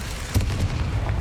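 An Incendio fire spell cast in Hogwarts Legacy during a goblin attack on Feldcroft village, giving a short, booming burst over a low rumbling game backdrop.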